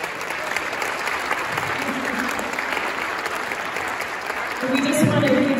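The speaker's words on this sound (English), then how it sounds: "Can we give them all a big round of applause?" Sustained audience applause fills a dinner-event hall, dense and even for several seconds, with a brief rise near the end where a voice starts to come through over the clapping.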